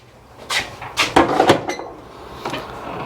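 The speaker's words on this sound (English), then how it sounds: "Open the door." A door is pulled open nearby with a few sharp clunks and a rattle of the latch, then quieter handling noise, close and with no talking.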